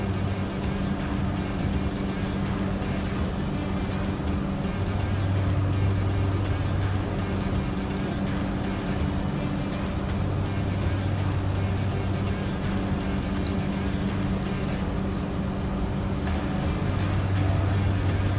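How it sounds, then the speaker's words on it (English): Cessna 208 turboprop engine at max power with full flaps during the takeoff roll and liftoff in Microsoft Flight Simulator 2020 on an Idaho airstrip, a constant loud drone with steady hum tones throughout. "full flaps, good trim for takeoff, and rolling. Get that nose up, and she just lifts off herself."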